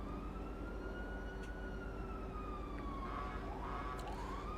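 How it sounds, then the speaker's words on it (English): An ambulance siren wails in a 1990s-style video game roleplay server, a rising and falling tone sounding moderately distant over a steady low rumble of traffic or engine noise. "There comes the ambulance finally."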